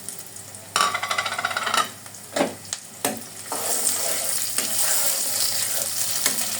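Whole spices (garam masala, cardamom, cinnamon, bay leaf and cloves) drop into hot oil with onion, a close crackling sizzle broken by sharp scraping stirs and clatter, then settling into a bright, steady fry.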